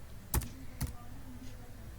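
Two separate clicking keystrokes on a computer keyboard, close and fairly quiet, spaced about half a second apart against a low background hum.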